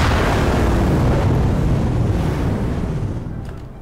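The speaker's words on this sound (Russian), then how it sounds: "Эпический мега взрыв." A huge in-game explosion in Garry's Mod roars as a dense, rumbling wash of noise that starts at full strength and slowly fades over a few seconds, with no talk over it.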